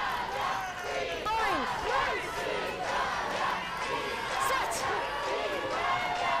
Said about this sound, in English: Good Italian crowd here getting into the game now.